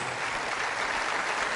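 A church congregation applauds during a Catholic Mass, steady dense clapping filling the space throughout, loud and continuous with no voices over it.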